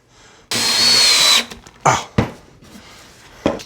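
A power drill drives a screw into a wooden lantern in one loud sustained whir lasting about a second, followed by a few short knocks and handling clatters in a quiet workshop.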